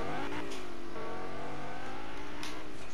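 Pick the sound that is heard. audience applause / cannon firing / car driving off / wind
car driving off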